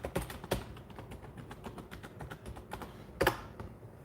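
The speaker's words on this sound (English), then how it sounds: "I'm trying to type in, man. I can't type for nothing." Quick, uneven taps of fingers typing on a computer keyboard, faint and close, with a few louder key strikes and no talk.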